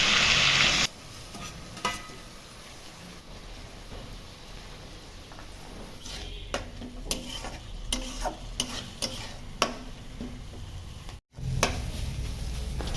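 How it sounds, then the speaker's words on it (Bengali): Red chilli powder, turmeric, chopped tomato and salt frying in a pan, a steady sizzle with a burst of louder hiss at the start, then repeated scraping stirs and clicks of a spoon. "দিচ্ছি রেড চিলি পাউডার, হলুদ গুঁড়ো, সাথে টমেটো কুচি ও নুন দিয়ে কষে নেব"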